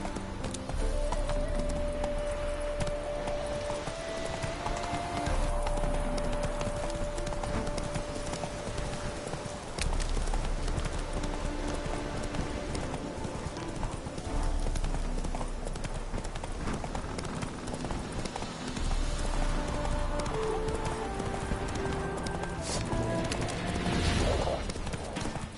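A horse gallops in The Witcher 3 on the Death March difficulty, a steady rapid clip-clop of hooves running the whole time, close and fairly loud, with the brief sound of a rider's voice.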